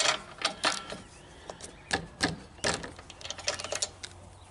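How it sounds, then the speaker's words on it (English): A wrench working loose the spark plug on a Briggs and Stratton 500 engine, producing quick irregular metallic clicks and ratcheting ticks, close up, with no voices. "loosen up your spark plug. Go ahead and unscrew that."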